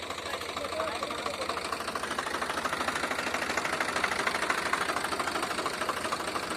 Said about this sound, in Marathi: हा आहे पिंटू दादाचा ट्रॅक्टर